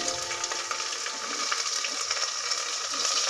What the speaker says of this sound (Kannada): ಈ ಈರುಳ್ಳಿಯನ್ನು ಚೆನ್ನಾಗಿ ಕೆಂಪಾಗಿ ಫ್ರೈ ಮಾಡಬೇಕು